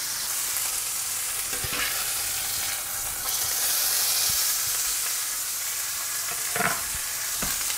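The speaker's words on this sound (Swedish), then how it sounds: "Nu medan jag steker köttet så tänker jag ta baconet också och skära ner det i mindre bitar." Meat, for a Swedish skomakarlåda beef casserole, sizzles and spits in a frying pan with a constant bright crackling hiss, close up, broken by a few soft clicks and scrapes of stirring.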